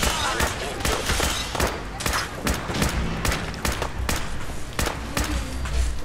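Rapid gunshots in Fallout 4, a steady run of sharp loud cracks and thuds firing every fraction of a second over a few seconds.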